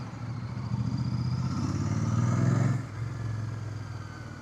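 Royal Enfield Bear 650 ridden over a potholed back-street road, its steady low engine and exhaust thrum continuous and close, swelling briefly louder before easing back.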